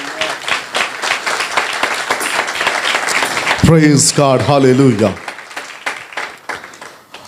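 Loud clapping from a church congregation welcoming the Holy Spirit fills the hall in a dense, steady stream of claps while a voice speaks over it with praise.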